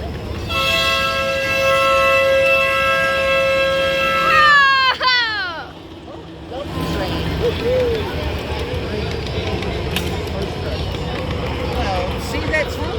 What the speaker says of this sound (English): The other train is coming.